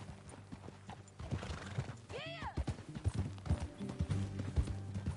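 A horse in Red Dead Redemption 2 clip-clops at a walk, its hoof beats close and rhythmic, then lets out one loud, rising and falling neigh partway through before the hooves carry on.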